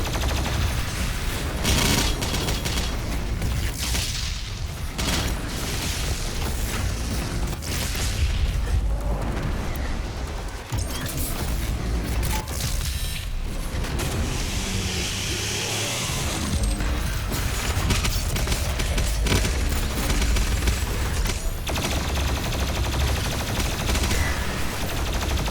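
Dense weapon fire in Doom Eternal, including plasma gun bursts, with continuous rapid shots, booms and mechanical clanks filling a frantic fight on Mars Core.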